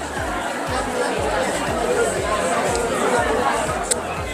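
Busy crowd chatter fills an indoor small business expo hall, an even, dense babble of many overlapping voices at moderate distance, with faint footsteps and one brief sharp click near the end.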